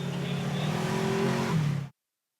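Polaris RZR 1000 side-by-side race buggies rev their engines at a restart in a Terracross championship, a loud, close, sustained engine roar with shifting pitch that cuts off abruptly.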